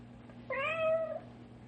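A cat in a radio drama meows once, muffled as if from inside the walls, a single drawn-out cry against a quiet background hum.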